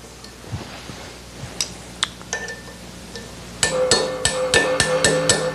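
A regular hammer whacks a wrench fitted on a bolt, first a few scattered metallic taps, then a quick run of louder ringing strikes close by, each with a bright clanging ring.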